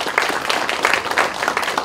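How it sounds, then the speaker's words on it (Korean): Audience applause at the founding assembly of a forum on basic jobs, honoring the chairman, a brief burst of brisk clapping from a seated crowd, fairly loud and uninterrupted by talk. "양재덕 이사장님께 큰 박수 부탁드리도록 하겠습니다"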